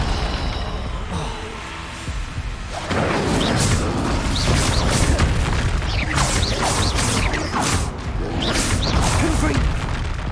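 Fiery spell explosions in the Hogwarts Legacy video game, a dense battle of booms, crashes and whooshing blasts with rumbling debris, loud and continuous over about ten seconds.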